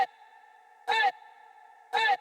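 Amapiano vocal sample in a music production, heard as two short bright vocal bursts about a second apart over a sustained droning tonal bed, clean and upfront.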